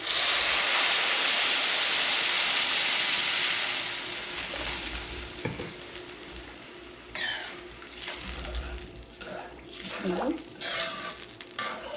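Water poured into a pot of rice coated in ghee, butter and oil, a loud steady rushing hiss that fades into softer bubbling and sizzling, with brief clinks of a utensil against the pot.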